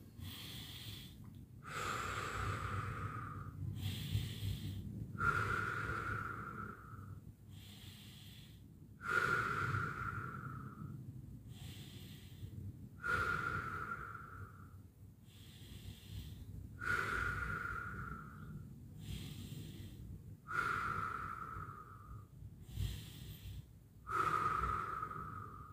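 Slow, deep belly and back breathing during a qi gong iron body meditation session, a series of about eight audible breaths with a wheezy, snorting edge, evenly spaced and faint over a low background hum.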